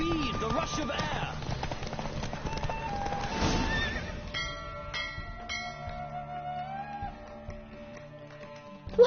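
A horse gallops hard and neighs during a race in The Witcher 3, the rapid hoofbeats and a whinny loud over game music, a voice talking alongside, ending in a sudden sharp hit.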